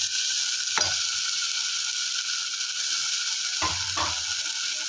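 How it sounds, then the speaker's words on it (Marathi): Masala spices roasting in hot oil for a bombil (Bombay duck) bhaji, a constant bright sizzle with a few low scraping stirs of the spoon in the pan. "आता या मसाल्याला मस्त भाजून घेऊ आपण तेलामध्ये मस्त."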